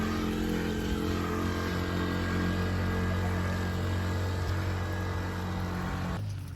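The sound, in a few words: motorcycle engine revving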